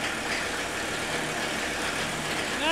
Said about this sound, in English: You can hear the clatter of the injector nailing at idle.